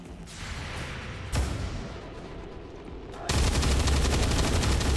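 Gunfire in XCOM 2 rings out as sustained, dense shooting, with a sharp burst near 1.3 s and a louder, heavier volley from about 3.3 s to the end, close and loud with no talk.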